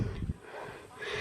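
Heavy panting from a person out of breath after climbing uphill on a mountain path to a playground, with short breathy gasps and snorts close to the microphone, loudest at the start and then steady, rough breathing.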